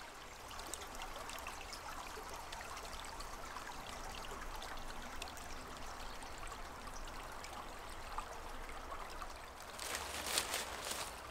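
Small stream flowing through a beech forest high in a catchment, a steady soft gurgle and trickle of water running continuously and fairly faint, with a slightly brighter splash near the end.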